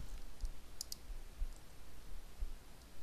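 Sharp computer mouse clicks while working in Adobe InDesign, a few quick light clicks in a close pair, heard alone over faint room hiss.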